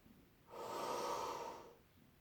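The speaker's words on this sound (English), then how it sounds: "I'm going to take 10 nice big breaths" A single big, deep breath taken during a back stretch, a long broad rushing inhale-exhale swelling for about a second and fading, close and fairly soft with no talking.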